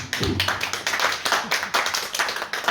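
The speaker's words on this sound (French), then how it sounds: "On peut applaudir Maëlys aussi" Conference attendees clap for a guest at a French literary talk, a small, close group producing uneven bursts of individual hand claps in a loose, tapping rhythm.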